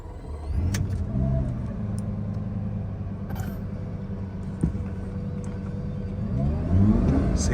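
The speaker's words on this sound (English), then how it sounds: "Go ahead and do a start up here." A 2004 Lamborghini Gallardo engine turns over and settles into a steady, low idle, with revs swelling briefly near the start and again toward the end. Close and continuous.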